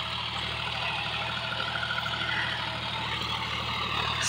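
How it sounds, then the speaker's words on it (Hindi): A 40 HP John Deere 5105 tractor pulling a cultivator through a field, its engine giving a steady, continuous drone with a low harmonic hum, close and unbroken for the whole stretch. "ऊपर चढ़ के और दिखाता हूँ कि ट्रैक्टर आरपीएम कितने ड्रॉप कर रहा है।"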